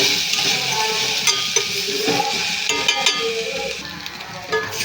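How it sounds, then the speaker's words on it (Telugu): Capsicum frying in a pan for a capsicum-tomato curry: a bright, continuous sizzle with frequent scraping and tapping of a spatula, close and fairly loud. "ఇలా ఫ్రై చేసేసుకుని ఫ్రై చేసేసుకోరండి క్యాప్సికం కూడా మగ్గిపోతుంది"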